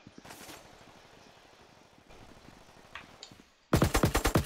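Gunfire in the Roblox game Riot Fall, scattered shots and bursts of automatic fire, ending in a loud rapid close burst of evenly spaced shots.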